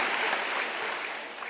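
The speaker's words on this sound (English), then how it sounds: "let's give him an applause, Rafa, real quick" A brief burst of applause for a footballer, dense close clapping that lasts just over a second at an even level.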